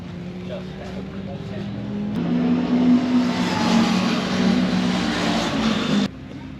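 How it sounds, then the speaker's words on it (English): A 2023 Honda CL500 scrambler motorcycle on a racing track, engine droning steadily then rising into a louder, sustained rev, with someone talking over it. "The next bike I'm gonna test is this CL500, this new scrambler from Honda."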